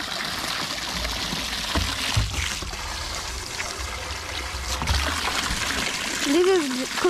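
Water trickles and pours at a tap in a village home in Africa, a steady splashing stream running under nearby voices and movement.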